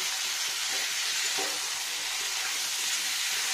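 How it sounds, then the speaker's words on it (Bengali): Potatoes with poppy seed paste and salt sautéing in a hot pan for aloo posto, a steady close sizzle with faint stirring scrapes, no voices. "এবার ভালো করে কষিয়ে নেবো।"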